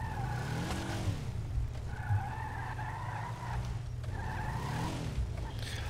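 A ramp buggy driving in GTA 5, its engine note rising and falling in steady sweeps with tire skids, fairly faint and continuous.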